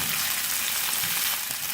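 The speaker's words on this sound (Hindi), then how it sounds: "सबसे पहले हम प्याज को थोड़ा सा फ्राई करेंगे।" About 300 grams of onions fry in hot oil on a tawa, producing a loud, continuous, close-up hiss and crackle without any speech.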